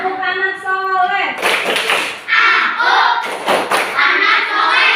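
Children in an Indonesian classroom clap together in sharp patterned bursts, alternating with loud group chanting, close and energetic.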